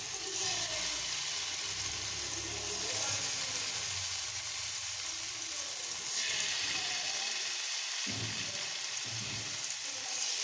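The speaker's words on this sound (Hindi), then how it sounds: "तो इस तरह से हम अपने सारे चिकन को, इन पीसेस को इस तरह पैन में डाल देंगे।" Chicken pieces sizzle and fry steadily in a pan over medium-low heat for chicken shawarma, a continuous close crackle with brief lower clatters as pieces go in.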